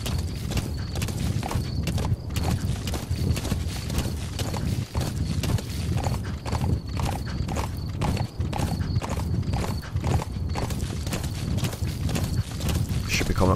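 A horse gallops in Metal Gear Solid 5: The Phantom Pain, its hooves pounding in a fast, rapid clip-clop rhythm that runs without a break, loud and close.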